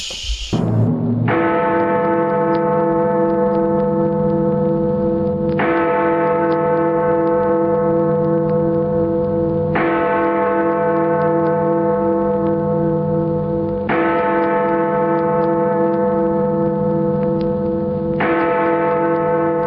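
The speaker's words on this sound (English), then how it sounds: "The Biggity Big Bong Bells are going to be going off in a second" Large church bells ring loudly and steadily, with a deep resonant strike roughly every four seconds and each long humming tone sustaining into the next, alone with no talk.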